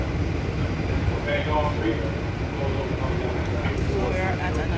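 Inside a passenger train, a constant low rumble and mechanical hum carry on throughout, with light rattles and a person talking intermittently above the steady ride noise.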